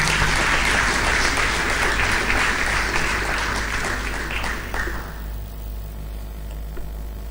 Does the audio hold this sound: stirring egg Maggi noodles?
no